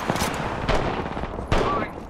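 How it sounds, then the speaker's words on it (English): Video game gunfire: a few sharp, separated shots crack out across a couple of seconds over a continuous noisy backdrop. "Shots fired and they hit me"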